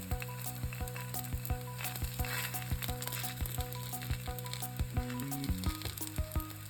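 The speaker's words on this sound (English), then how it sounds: "Roast paratha on a medium gas." A paratha roasts in oil on a skillet over medium heat, sizzling steadily and crackling up close, with regular soft taps throughout and no talking.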